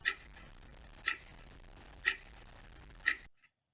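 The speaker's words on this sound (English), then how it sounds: "What sound does a clock make?" A clock ticks four times at a steady one-second pace, each tick a sharp, crisp click in otherwise quiet surroundings.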